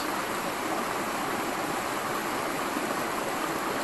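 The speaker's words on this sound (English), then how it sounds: "so I made my way down to the creek, and it's pretty cool" A creek flows steadily near Weis Rockshelter, giving a dense, even rushing wash of water at moderate level with no voices.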